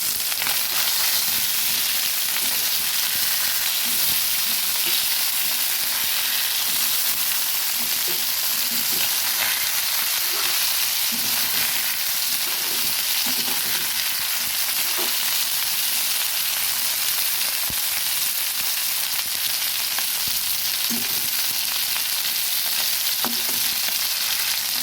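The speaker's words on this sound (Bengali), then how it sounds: "মাছগুলো ভাজা হয়ে গেছে।" Tengra fish fry in hot oil in a pan, a loud, continuous sizzle and crackle that never lets up, with a few faint stirring knocks underneath.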